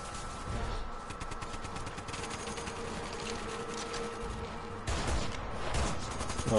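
Enemy gunfire in Resident Evil 6 on PS4, rapid rattling bursts of automatic shots running continuously, with a louder burst near the end and no talk.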